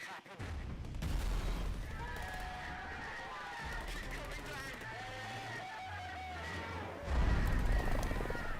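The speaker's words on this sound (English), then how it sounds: "We are going to detonate." Explosive detonation with heavy low rumbling booms and crackling blasts, a strong surge near the end, with voices and other sounds mixed in throughout.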